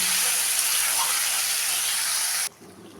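Chopped onion with chicken pieces frying in a pan, a loud, steady hiss of sizzling oil filling the first two and a half seconds before cutting off abruptly to near quiet.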